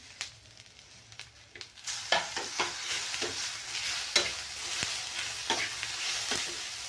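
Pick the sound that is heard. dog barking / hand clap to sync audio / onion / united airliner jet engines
onion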